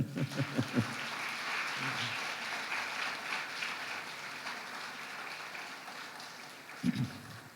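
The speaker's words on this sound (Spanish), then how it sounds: "denle un aplauso a Él" A church congregation applauds during a Sunday sermon, a soft, distant wash of clapping that runs on steadily, with a few louder thumps at the start and near the end.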